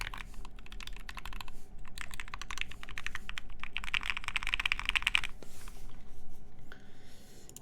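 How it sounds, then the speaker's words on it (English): Rapid typing on a mechanical keyboard built with a carbon fiber plate and NK Silk or Dry switches, dense close-up key clacks in quick runs, pausing briefly before resuming. "I actually like typing on this board"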